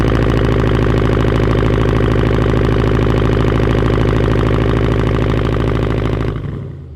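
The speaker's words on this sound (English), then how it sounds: "I'm gonna hit the launch control button, press the brake as hard as you can, full throttle" A Dodge Hellcat Redeye V8 holds at full throttle on launch control, a loud, steady, close-up roar that runs unbroken for about six seconds before cutting off sharply.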